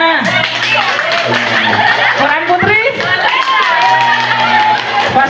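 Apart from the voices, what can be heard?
audience clapping hands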